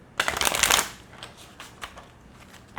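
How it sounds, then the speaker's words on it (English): A quick riffle shuffle of playing cards, a dense burst of crisp fluttering clicks that tapers into a few softer taps and card slides. "And then I like to shuffle like I'm in Vegas."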